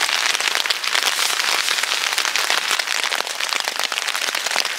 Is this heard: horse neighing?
no